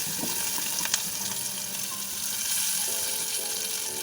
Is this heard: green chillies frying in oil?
yes